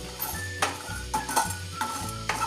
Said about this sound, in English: Now let's also lightly mix it until the aroma gets good.